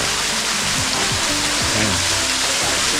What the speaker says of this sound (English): this is the bottom half of that waterfall